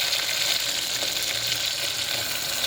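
Onions frying in hot oil with fennel and mustard seeds for mushroom masala, a steady, even sizzle filling the clip with no talk over it.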